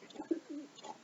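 A pigeon gives a short, soft, throaty coo of a few low rolling notes, close and alone with no talking.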